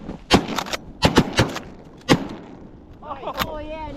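Several sharp shotgun blasts while hunting ducks from a small island, the first one single and then a quick cluster, close and loud, with a voice speaking at the end.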